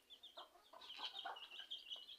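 Chickens just let out cluck and chatter in a quick irregular series of short calls, fairly faint and close, with no talk over them.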